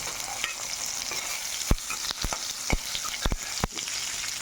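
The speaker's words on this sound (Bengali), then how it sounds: "আর কড়াইতে দিয়েছি হচ্ছে জিরে, তেজপাতা, আদা বাটা আর টমেটো" Cumin, bay leaves, ginger paste and tomato fry in oil in a wok, a soft crackling sizzle broken by sharp clanks and scrapes of a spatula stirring, quiet and close with no talking.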